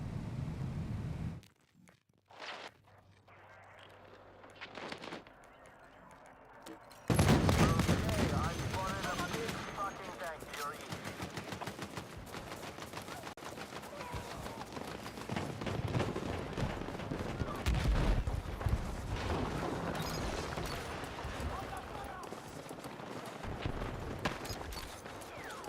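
Automated turret gunfire in Battlefield 6, sustained loud bursts of shots running through most of the clip after a brief quieter opening, with game noise and other combat sounds mixed in.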